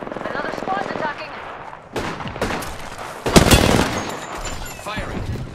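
Sporadic firefight in Apex Legends-style combat: quiet sound and faint voice-like tones at first, then sharp bursts of automatic gunfire with a loud blast in the middle, continuing in uneven volleys.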